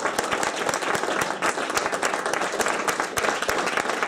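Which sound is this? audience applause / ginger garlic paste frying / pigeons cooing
audience applause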